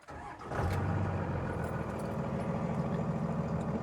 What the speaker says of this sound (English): It just immediately fires into life, runs super smooth